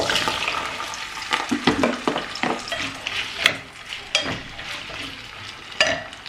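Onion, pepper, potato and carrot frying together in hot oil in a home kitchen, a steady sizzle with irregular scraping and stirring clatters, close and fairly loud, no talk.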